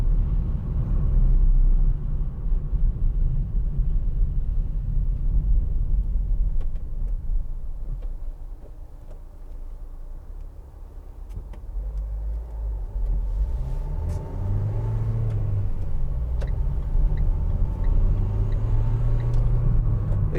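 A 2015 Vauxhall Vivaro 1.6 CDTi ecoFLEX van with an empty load area accelerates, its diesel engine giving a steady, loud low rumble that rises in pitch partway through, heard from inside the cab.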